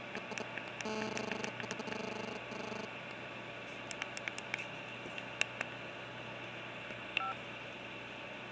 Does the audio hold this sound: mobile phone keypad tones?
yes